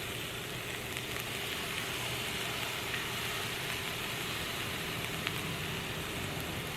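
Turmeric powder and spices sizzle in a hot pan during the cooking of spicy shrimp in coconut sauce, a steady, even crackling hiss that is fairly quiet and continues without pause and without talk.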